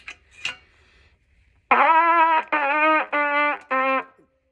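Four separate trumpet notes played with tight, tense lips, each bright and buzzy, sounding pinched and strained, with short gaps between them.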